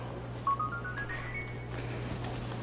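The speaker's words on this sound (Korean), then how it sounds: "전화 왔다." A phone rings with a short rising electronic tone sequence, moderately loud over a steady low hum and faint room noise.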